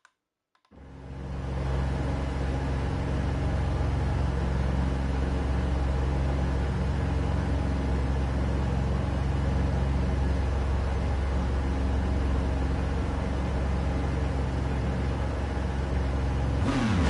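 A Ferrari engine in Gran Turismo 7 on PS5 starts up after a brief silence and settles into a steady, loud droning rumble with a constant whirring hum, holding evenly for the rest of the stretch with no talk.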